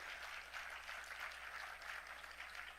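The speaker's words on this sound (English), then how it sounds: "Give them a round of applause." Steady applause from a crowd at a convention in New York City, heard fairly faint and distant, a continuous patter of clapping with no voices over it.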